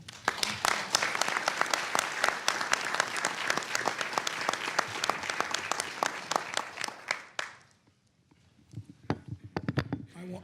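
Conference audience applauding, a dense burst of clapping that carries on steadily for about seven seconds before fading out, followed by a few scattered claps and faint murmurs.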